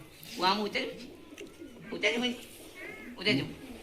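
Soft, repeated pigeon coos rise and fall in short bursts amid nearby talking in a Gujarati comedy sketch, fairly quiet overall.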